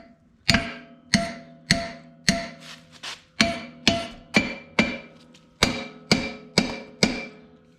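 A hammer taps a welded rear shock perch on a vehicle's rear axle housing, about a dozen sharp metallic knocks in a steady rhythm, each ringing briefly, close and clear with no talk.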